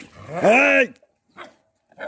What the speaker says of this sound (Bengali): ওরে কুকুর ধরছে।